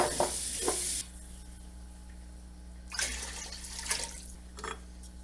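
Water pours into a pot of chicken stock and garlic, a loud splashing rush for about a second, then quieter sizzling with a few stirring scrapes and sloshes.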